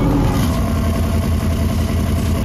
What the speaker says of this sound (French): moteur V8 qui délivre pas moins de 470 chevaux. C'est juste dingue, écoute-moi ce bruit